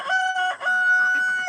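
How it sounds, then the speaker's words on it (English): A homestead rooster crows once nearby, a loud, drawn-out, wavering cock-a-doodle-doo lasting over a second, alone without talk. "Horntail is my rooster."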